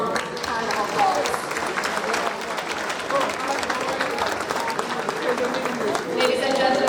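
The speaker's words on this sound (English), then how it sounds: "Please join me in giving them a warm hand of applause." Sustained applause from a gala audience honoring award recipients at a Jamaica 60th anniversary Diamond Jubilee celebration, a dense steady wash of many hands clapping with crowd murmur throughout.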